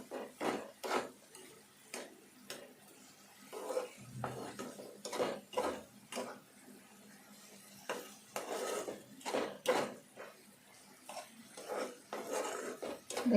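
Spoon stirring a carrot laddu mixture in a pan, a steady series of close scraping and knocking strokes against the metal, repeated rhythmically over several seconds, with no voices.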